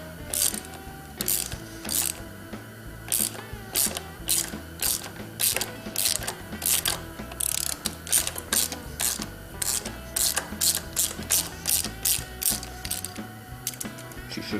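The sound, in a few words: loosening a bolt on a CR500 motorcycle clutch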